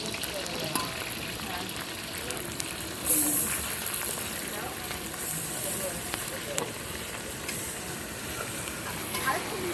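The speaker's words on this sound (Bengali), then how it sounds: "এই যে পেঁয়াজটা ভেজে নেবো" Chopped onion sizzles and crackles in hot oil for a mutton curry cooked outdoors over gas, a steady frying hiss that runs throughout with a sharper burst partway through.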